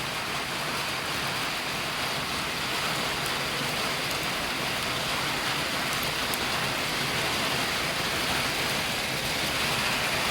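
Steady rain falls over a village, a dense continuous hiss of drops on surfaces that holds at an even, fairly loud level throughout with no voices.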